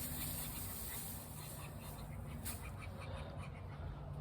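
Ducks quack steadily in a muddy farmyard while waiting to be fed, a dense, fairly close chorus of calls over constant background noise.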